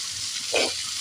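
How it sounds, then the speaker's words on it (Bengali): Onion pieces dropped into hot oil with spices, giving a steady broad sizzle that swells briefly in the middle of the short stretch, with no talking. "পেঁয়াজটা ছেড়ে দিলাম, পেঁয়াজটা ছেড়ে দিলাম, সাথে এইগুলো একসাথে সব দিয়ে দেবো।"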